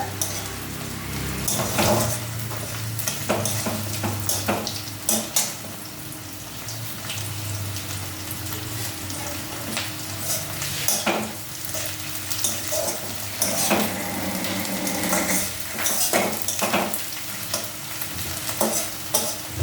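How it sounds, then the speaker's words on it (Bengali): Steady sizzling of onions frying in a pan, with stirring scrapes and occasional clinks of a utensil against the pan, close up. "এটা একটু ভাজা হবে পেঁয়াজটা"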